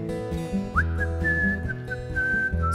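Whistled imitation of a bird singing, a bright sustained high tone with sliding warbles heard over a country music accompaniment of guitar and bass, performed live.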